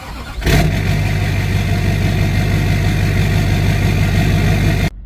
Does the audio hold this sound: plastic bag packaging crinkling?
no